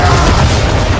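A ship's cannon fires in the Assassin's Creed 3 video game, a loud, sustained, rumbling boom that fills the whole brief moment.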